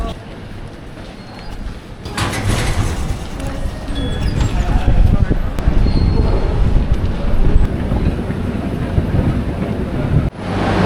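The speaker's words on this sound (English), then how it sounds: "Here's our train." A train rumbles into a Sydney station platform and rolls to a stop, with clattering wheels and a brief squeal over busy station noise, ending in a sudden clunk.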